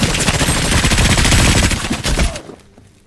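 Dense, loud automatic gunfire and rapid rifle volleys as soldiers shoot at Nazi German troops in a World War II battle, a continuous roar of shots that cuts off and fades to quiet near the end.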